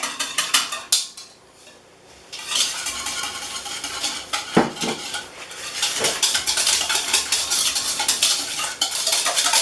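A whisk beats eggs and sugar together in a bowl for a home recipe, with quick rattling metal strokes against the sides, a brief pause, then fast, steady, close whisking.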